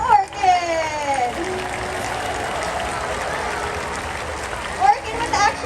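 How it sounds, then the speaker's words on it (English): An audience at a SeaWorld San Diego orca show applauds for a killer whale, steady clapping from a large crowd filling the space while an announcer's voice rises briefly at the start and end. "Everyone give a round of applause for Orchid."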